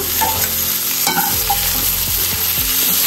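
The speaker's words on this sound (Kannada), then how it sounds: "ಇದು ಬ್ಯಾಡಗೆ ಮೆಣಸಿನ್ಕಾಯಿ, ಇದು ಖಾರ ಮೆಣಸಿನ್ಕಾಯಿ, ಟೊಮೆಟೊ ಮತ್ತೆ ಪುದೀನ ಸೊಪ್ಪು ಚೆನ್ನಾಗಿ ಫ್ರೈ ಮಾಡೋಣ" Byadgi chillies, hot green chillies, tomato and mint leaves fry in hot oil for an egg and chicken curry, giving a loud, continuous sizzle broken by scraping stirs of a spatula in the pan.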